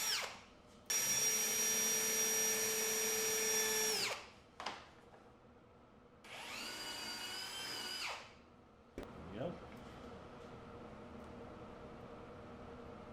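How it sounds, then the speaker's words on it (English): Power drill boring a hole through a silicone plug, in bursts: a loud whining run of about three seconds, a short blip, then a second two-second run, with quieter bench noise in the pauses. "So I'm going to drill a hole in here,"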